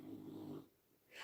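A sleeping dog snores indoors with one low, rasping, grumbling breath, followed by a pause and the start of another. It is near but quiet, and no one talks.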